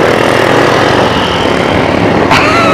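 A motorcycle rides on beach sand, its engine droning loud and close in a constant rough roar with no letup, broken only by a brief sharp click near the end.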